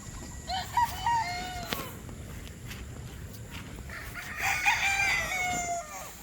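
Chickens and roosters crow at a poultry yard, one rooster crowing early and another longer crow later, with clucking and footstep shuffles in between and no talk.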